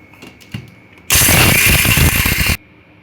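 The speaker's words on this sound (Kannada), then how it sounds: "ಕಡಲೆ ಬೀಜ ಮತ್ತು ಹುರ್ಗಡ್ಲೆ ಎರಡೂ ತರ್ತರಿಯಾಗಿ ಗ್ರೈಂಡ್ ಮಾಡ್ಕೋಬೇಕು" A kitchen mixer grinder coarsely grinds peanuts and roasted gram for the Karnataka sweet tambittu, giving one loud, harsh whirring burst of about a second and a half after some faint clatter, then stopping abruptly.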